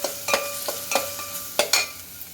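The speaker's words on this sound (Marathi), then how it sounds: "आता अजून असाच हलवत तो कांदा पूर्ण शिजवून घ्यायचा, म्हणजे एकदम ब्राऊन करायचा." Onions frying in oil for chicken dum biryani are stirred in a pan as they brown, the spatula scraping and clinking irregularly against the metal over a close, continuous sizzle.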